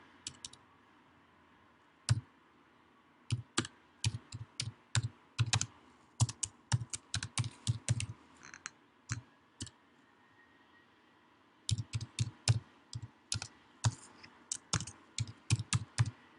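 Quick keyboard typing in irregular bursts of clicks, close and clear, with a short pause midway before the tapping resumes.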